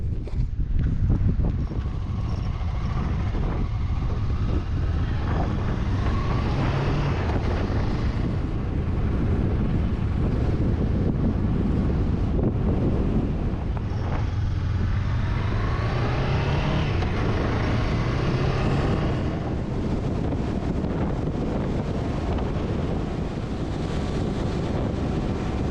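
Steady, loud wind buffeting and roaring against a microphone while riding a motorcycle on a highway in Namibia, with a continuous low road rumble underneath, unbroken for the whole stretch.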